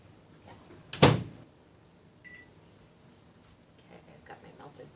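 A microwave oven finishes melting butter with a sharp thump near the start, followed by a short, faint beep, then quiet kitchen room tone.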